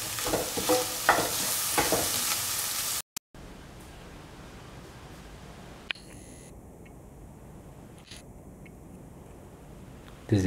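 Scrambled eggs sizzle and get stirred in a pan over a flame, close and steady at first, then the sound cuts out and a quieter hiss continues.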